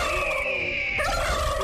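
A turkey gobble sound effect: one short, loud, rattling burst of gobbling that stands alone.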